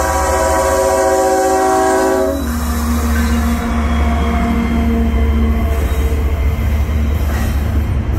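A train passes close by with its horn blaring in a long sustained blast over the rumble and screech of railcar wheels, then the horn cuts off and the rolling clatter continues steadily.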